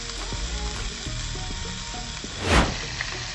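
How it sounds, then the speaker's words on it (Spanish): Chicken browning in a frying pan gives off a loud, steady sizzle of hot oil, with a brief burst of sharper spattering toward the end. "Como ya se está dorando mi pollo"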